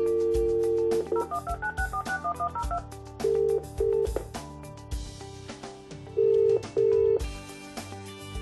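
A Possum Sero disability phone automatically dials an emergency contact: bursts of DTMF keypad tones run in a quick series, followed by paired longer tones, all clear and close with no talking.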